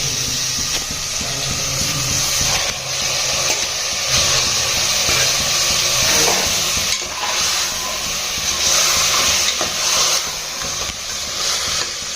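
Chicken and tomato sauté in hot oil in a pan, giving a loud, continuous sizzle and hiss broken by repeated scraping stirs from a spoon, with no voices.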